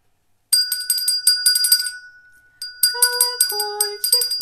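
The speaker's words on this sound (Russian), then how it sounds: "Колокольчик поет, малышек себе зовет." A small handbell rings in repeated bright jingling bursts, close and clear, pausing briefly before ringing again, with no speech over it.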